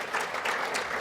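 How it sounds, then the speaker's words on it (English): Audience applause after a talk at a health conference, a steady dense clapping from many hands filling the room for about a second. "I don't want you to halt your applause."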